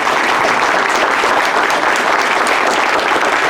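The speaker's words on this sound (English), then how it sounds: "Let's give them a round of applause." Sustained applause from an audience at a League of Women Voters candidate forum for DuPage County Board, steady dense clapping filling the whole stretch with no talk over it.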